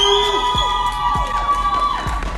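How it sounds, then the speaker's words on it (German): A studio crowd at a German dating game show cheers and whoops loudly, with repeated falling whistle-like slides and sustained tones ringing over the noisy, excited audience. "Applaus bitte"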